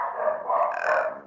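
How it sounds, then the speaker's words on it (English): Dogs bark and growl in a short, loud burst close by, rough overlapping barks with a rising snarl toward the end. "Sorry about the dogs."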